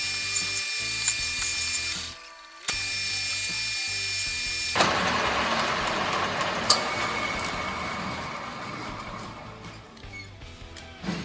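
Metal lathe cuts a register into a hardened steel socket, producing a harsh, steady grinding scrape that starts abruptly after a brief pause in a running machine hum and continues loud, then gradually fades.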